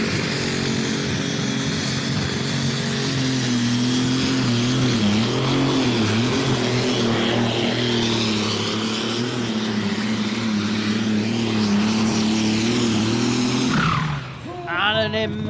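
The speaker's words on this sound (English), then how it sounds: "And an immense amount of RPM on the start line." International Harvester 1266 pulling tractor at a tractor-pulling event, its engine held at very high RPM on the start line, a loud, sustained roar with a shifting tone lasting about fourteen seconds before it cuts out abruptly.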